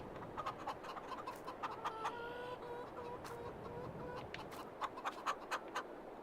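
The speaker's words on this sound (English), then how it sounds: "You have chickens on this farm." Chickens on a farm in Farming Simulator 22, on an Italian Emilia map with some 600 birds, give repeated short clucks and squawks in a steady rhythm over a busy background murmur of fowl, at moderate distance.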